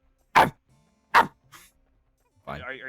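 A person imitates a dog with two short, sharp bark-like yelps close to the microphone during a Pikmin 1 gaming session, followed by a fainter grunt and a brief burst of talk.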